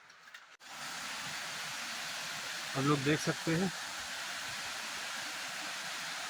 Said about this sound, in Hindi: ये ऊपर का व्यू है झरने का। देखिए कैसे झरना यहाँ पे आ रहा है।